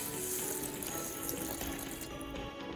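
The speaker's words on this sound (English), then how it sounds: "And we add in some water." Water pours steadily into a bowl of rice or millet being soaked for a spicy drink, making a continuous close splashing rush that eases slightly near the end, with no voices.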